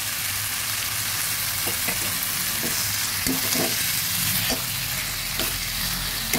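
Steamed taro greens and three green chillies dropped into fried spices in a pan, giving a loud continuous sizzle with scattered crackles and stirring scrapes, no voices.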